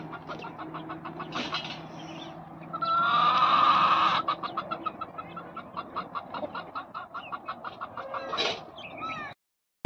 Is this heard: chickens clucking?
yes